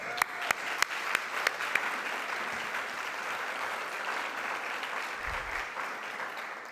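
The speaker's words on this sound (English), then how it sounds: "So, round of applause." Steady audience applause fills the room at an alumni awards event, a few sharper claps standing out near the start before the clapping settles into an even, continuous wash that holds to the end.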